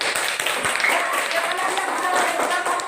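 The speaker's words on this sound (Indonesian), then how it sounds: "tepuk tangan" Children applauding in an Indonesian primary school classroom, a dense, steady patter of many small hands clapping close by for about three seconds with a few voices mixed in.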